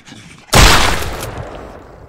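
A single loud gunshot fires in the survival game Mist Survival, a sharp broadband blast at half a second that booms and then decays slowly over the next second and a half, with no voices.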